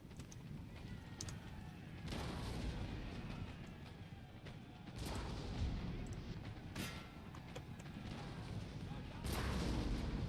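Artillery barrage in Napoleon Total War on a Victorian-era Italian battlefield: repeated heavy booming cannon shots at irregular intervals over a constant rumbling battle din, fairly distant and subdued.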